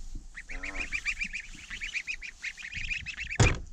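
Month-old goslings honk in a rapid run of short, repeated calls close by, with one louder, harsher burst near the end and no talking.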